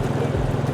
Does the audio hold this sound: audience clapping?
no